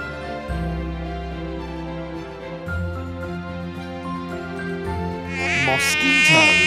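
A mosquito whines with a thin, steady buzz over a dense backdrop of layered tones, growing louder and brighter toward the end, with no speech.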